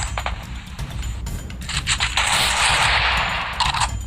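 Gunfire in Free Fire, bursts of rapid shots crackling and popping, building into a dense sustained volley in the second half amid loud game noise.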